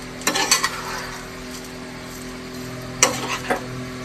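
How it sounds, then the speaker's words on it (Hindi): A spoon scrapes and clinks around a pan of dry fruit laddu mixture over a low flame, with two clusters of sharp strokes about three seconds apart over a faint, steady background hum. "तो इन सारी चीज़ों को कर देंगे मिक्स बिल्कुल एहतियात से, और गैस का फ्लेम बिल्कुल ही हम लो रखेंगे।"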